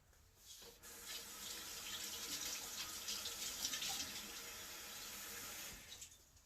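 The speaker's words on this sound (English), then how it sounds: "I'm gonna rinse my hands off real quick" Hands are rinsed under a running tap, a steady stream of water splashing in a sink for about five seconds, faint and close, starting and stopping cleanly.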